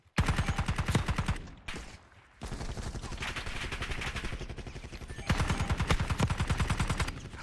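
Rapid automatic gunfire in a video game, long bursts of evenly spaced, punchy shots that break off briefly near the two-second mark and then resume steadily until the end.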